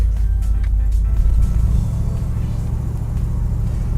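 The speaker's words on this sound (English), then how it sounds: "So the car I'm driving today is the fourth generation of the Chevy Impala" Fourth-generation Chevrolet Impala classic fastback on the move, giving a steady, loud low engine and road rumble that holds evenly throughout with no talking.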